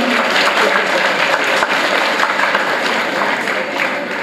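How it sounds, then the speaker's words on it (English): An audience at a career-counselling workshop at Canara High School in Mangaluru applauds, dense, steady clapping filling the room for several seconds. "Please give a huge round of applause to him."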